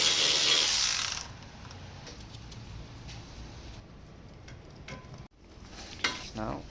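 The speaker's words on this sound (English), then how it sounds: "we're gonna take off these bolts right here" A hand ratchet loosens the rear brake caliper bolts on a Ford Transit 350HD, a close clicking rasp that starts loud, then falls to a quieter run of pawl clicks with a brief clunk near the end.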